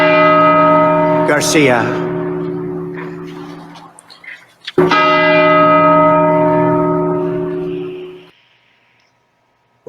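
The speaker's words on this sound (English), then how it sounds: "What the fuck was up with the gong?" A gong or bell rings out loud, struck twice with long sustained metallic tones that decay slowly, and a brief spoken word falls between the strikes.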